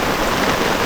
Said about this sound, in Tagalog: Grabe yung ulan yun.